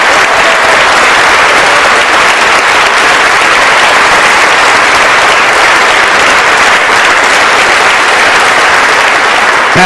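Loud, dense audience applause for George Jepson at a live radio broadcast, a continuous roar of many hands clapping at once, steady and close throughout with no voices standing out.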